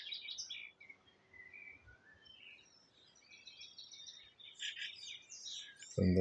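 Faint, high chirps and twittering from tits near their nest as a woodpecker raids it, scattered outdoors over a quiet background, ending with a sudden close knock or thump.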